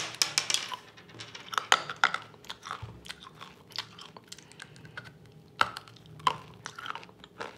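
Crunchy chewing and biting on chocolate lentils from a novelty sweets shop, close and fairly quiet, with irregular crisp crunches spread over several seconds and no talking.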